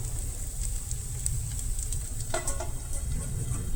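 Hot oil sizzles steadily in a pan while Goan-style sweet appe cook, a continuous close frying hiss with a brief clatter of stirring partway through.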